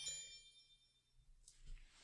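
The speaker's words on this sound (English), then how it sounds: "didn't mute his phone" A phone notification ding sounds once at the very start as a brief, bright ringing chime, then fades into near silence with faint low room sounds.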